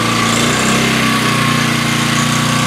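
A small petrol engine runs unloaded just after starting, a steady, fairly loud, even drone with a lawn-mower-like buzz and no talk over it.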